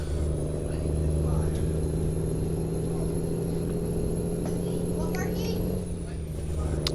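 Steady low engine drone of a simulated truck in American Truck Simulator, holding a constant hum with a high whine above it, loud and continuous, with a brief dip near the end.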